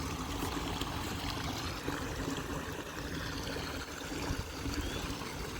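Water rushes steadily along a large stream, a dense, continuous wash of flow that stays close and unbroken, with no talking.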